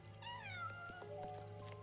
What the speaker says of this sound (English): Ah, kitties.